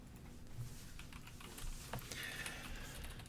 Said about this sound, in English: Am I typing this into the Steam machine?